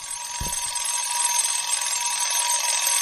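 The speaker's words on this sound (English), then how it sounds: "Oh, that's an alarm clock." An alarm clock in a horror video game rings continuously with a thin, tinny electronic tone, loud and steady, after a single dull thump near the start.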